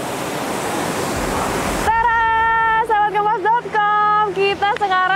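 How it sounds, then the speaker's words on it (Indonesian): The Tetewa waterfall in Ulesi, Southeast Sulawesi, roars with a broad, steady rush of falling water for about two seconds before it cuts out and a person starts talking. "Kita sekarang sudah berada di air terjun Tetewa di Kecamatan Ulesi."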